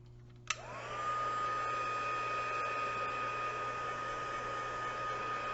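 A heat gun blowing on paint to dry it during dip-dye style painting: a short click, then a steady loud whooshing hum with a whining tone that runs without pause to the end.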